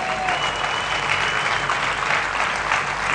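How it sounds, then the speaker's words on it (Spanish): A church congregation applauds together, a loud, steady wash of many hands clapping that fills the whole stretch, with a faint tone audible at the very start. "Dale un aplauso al Señor."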